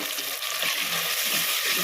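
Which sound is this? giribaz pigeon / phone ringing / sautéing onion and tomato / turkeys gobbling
sautéing onion and tomato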